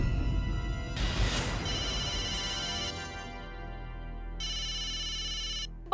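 A phone rings with an incoming call, a bright electronic ringtone repeating in bursts over a low background hum indoors. No one speaks.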